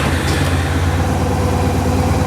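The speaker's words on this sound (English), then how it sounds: "So I'm going to start the bike just for a few seconds." A Honda Silverwing scooter engine idles close by, a steady, even low-pitched chugging hum with no change in pace.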